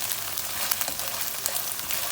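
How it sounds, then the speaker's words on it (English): Onion, garlic and ginger fry in a pan, giving a steady, dense sizzle with fine crackling throughout, close and even, with no voices. "We'll stir this. We'll cook this until the onion become brown"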